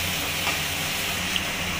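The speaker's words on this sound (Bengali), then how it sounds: "মশলাগুলো ভাজা হয়ে গেলে" Spices fry in a kadai with hot oil for a chicken biryani, giving a steady, dense sizzle that stays even and fairly loud throughout the brief moment, with no voices.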